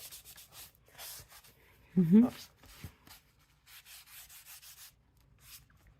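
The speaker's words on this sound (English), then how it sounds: "Let's get a sanding block." Repeated rhythmic rubbing strokes of a sanding block on a surface, close up, in short bursts with pauses, and a brief voice in the middle.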